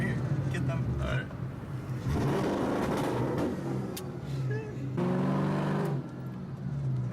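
A straight-piped Ford Mustang GT exhaust sounds close and loud, with repeated revs surging and falling in deep rumbling bursts, and people talk over it.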